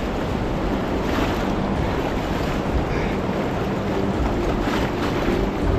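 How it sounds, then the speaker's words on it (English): A whitewater river in spring flood rushes at the brink of a waterfall as a loud, steady roar of churning water with no voices. "And this is my takeout at the brink of this waterfall."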